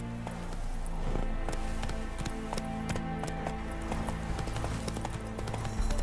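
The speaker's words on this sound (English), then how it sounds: "Come on, Roach" The horse Roach gallops in The Witcher 3 game, a steady rhythmic clip-clop of hooves over a low ambient bed, fairly quiet and continuous, with no speech.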